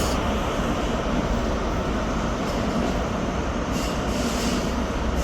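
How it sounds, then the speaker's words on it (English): A Scotrail train departs Dundee station bound for Glasgow Queen Street, a continuous heavy rumble of engine and wheels on rails, steady and fairly loud throughout with no voices. "Departing out now is the 1312 Scotrail service starting here at Dundee to Glasgow Queen Street."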